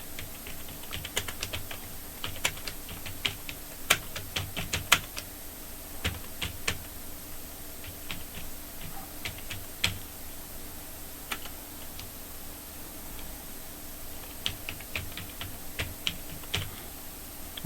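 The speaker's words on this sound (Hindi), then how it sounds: "और यहाँ पे नरेशन लिख देंगे" Computer keyboard typing while entering a narration in Tally ERP 9 accounting software, a continuous run of close, crisp key clicks in irregular bursts with no talking.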